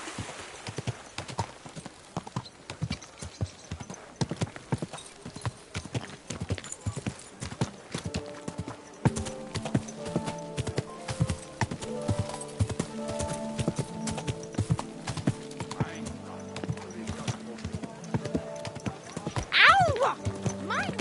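Horse hooves clip-clop steadily in Kingdom Come: Deliverance II, a close, regular beat that runs the whole way, later joined by music and a brief whinny near the end.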